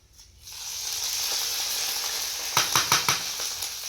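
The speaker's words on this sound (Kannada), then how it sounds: "ಇವಾಗ ಒಗ್ಗರಣೆ ಇದಕ್ಕೆ" Hot oil hisses in a steady loud sizzle as tempering spices go in suddenly, then a quick series of metallic scrapes as the pan is stirred.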